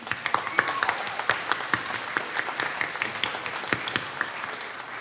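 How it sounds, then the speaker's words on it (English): Applause from an audience at a live family festival, scattered claps with some sharp individual hits rather than a dense roar, moderately loud and steady throughout, with faint crowd murmur underneath. "So let's give another round of applause to Roger."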